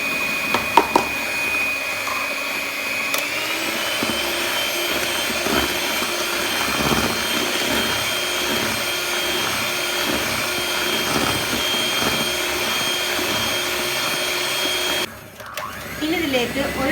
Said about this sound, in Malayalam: ഇതിനോടൊപ്പം തന്നെ കുറേശ്ശെ 1 കപ്പ് ഷുഗർ പൗഡർ ആഡ് ചെയ്ത് നന്നായിട്ട് ബീറ്റ് ചെയ്തെടുക്കുക.